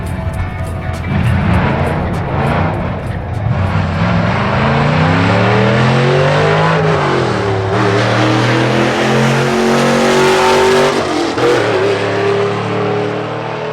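A turbocharged Abarth 124 running 17 pounds of boost roars hard down a quarter-mile drag strip, its loud engine climbing steadily through the gears with brief dips at each shift before revving high again.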